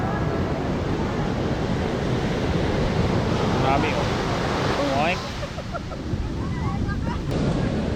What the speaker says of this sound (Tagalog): Kaya ang lakas ng hangin eh. Ang lakas ng alon.